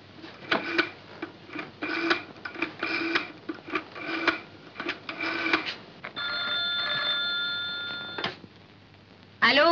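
A telephone rings in a film comedy scene, a run of repeated ring bursts followed by a steadier electronic tone, with a voice briefly heard near the end.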